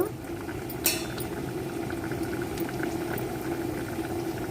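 Cucumber and tomato pieces boil in a pot for dal, with steady, close bubbling and a brief metallic clink near the start.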